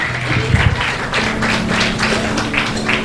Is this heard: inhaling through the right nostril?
no